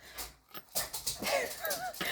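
A dog whimpers and wheezes up close, with high whining squeals and breathy pants in quick succession, and faint human voice briefly in the background.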